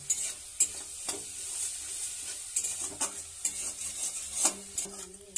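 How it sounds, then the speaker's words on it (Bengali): Chickpeas being stirred into cooked spices in a pan while making a Bengali pumpkin and potato curry, with steady soft sizzling and periodic scraping taps of a spoon against the pan. "মশলা কষানো হয়ে গেছে, এতে ছোলা দিয়ে নেড়ে নিয়ে অল্প জল দিয়ে দিয়েছি"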